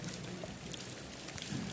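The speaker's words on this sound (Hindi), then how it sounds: "बहुत ही खतरनाक बारिश हो रही है इस टाइम, आप देख सकते हो।" Heavy rain pours steadily over the Dawar market in Gurez valley, Kashmir, a constant dense patter of drops on surfaces close by, with no voices over it.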